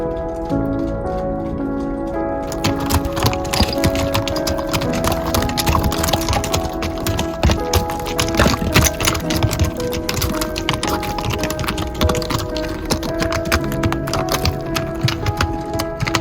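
Horses walking along a rocky mountain trail near Evolution Lake, hooves clip-clopping in a dense, continuous clatter of sharp knocks, close and busy throughout.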